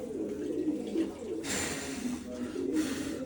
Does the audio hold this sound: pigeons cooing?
yes